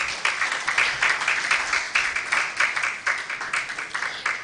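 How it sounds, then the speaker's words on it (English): Audience applause at the official launch of a Nigerian plastics and circular-economy initiative, a steady wash of many hands clapping that runs without pause, moderately loud and fairly close, with no voices over it. "Another round of applause for her,"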